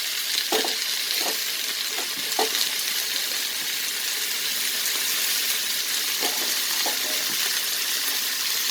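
Chopped ponnanganni (sessile joyweed) greens fry and sizzle steadily in a pan for a Tamil-style poriyal, with a constant hiss and a few soft stirring clinks scattered through, close and alone.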